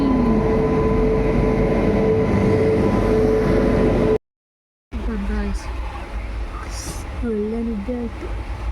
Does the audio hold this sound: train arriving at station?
yes